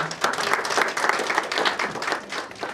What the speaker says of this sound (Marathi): टाळ्यांचा कडकडाट होईल.